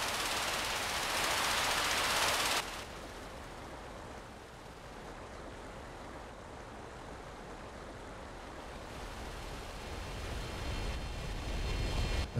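Jet aircraft in the Emergency 4 game roaring past loudly at first, then settling into a steady broadband rumble that swells again toward the end, with no speech.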